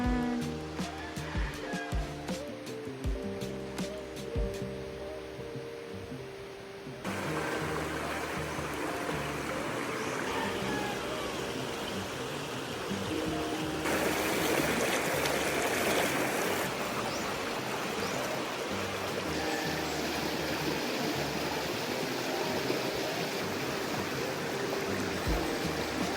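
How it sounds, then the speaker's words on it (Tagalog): River water flows and splashes steadily in the open morning air, a continuous rushing wash that grows louder and brighter partway through, with no talking over it. "Sarap magtampisaw sa ilog."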